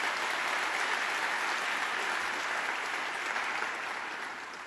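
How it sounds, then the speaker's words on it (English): A dense, steady round of applause from a large audience at a governor's budget address in Brooklyn, loud and continuous before tapering slightly at the end. "Let's give him a round of applause."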